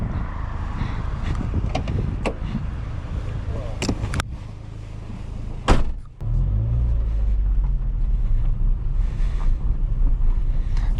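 A car climbing Winnats Pass in the Derbyshire Peak District hums with a steady engine and road rumble, heavy low wind buffeting throughout, and a brief sharp knock around the middle.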